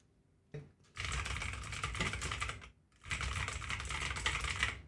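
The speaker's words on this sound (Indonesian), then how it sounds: "Sekarang saya coba ngetik." Typing on a computer keyboard picked up by an Alctron condenser microphone indoors, two dense runs of rapid key clatter separated by a short pause, close and clear with no talking.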